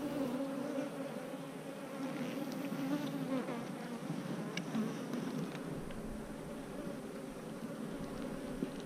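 Honey bees drone steadily at an opened Apimaye hive during a split, a dense, continuous buzz heard up close with no talking.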